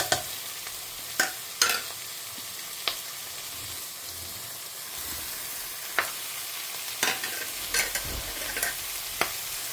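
Onions with red, yellow and green capsicums sautéing in a pan, a faint steady sizzle broken by sharp spatula scrapes and taps at irregular intervals.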